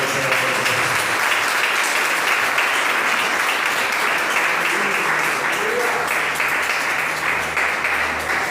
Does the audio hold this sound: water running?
no